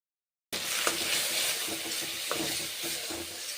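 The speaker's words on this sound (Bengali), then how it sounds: "ঘি দিয়ে রান্না করছি ম্যাগি" Boiled Maggi noodles fry in ghee with shelled peas, a sudden loud, close sizzle that starts after a moment of silence and keeps crackling steadily, with occasional scrapes from stirring.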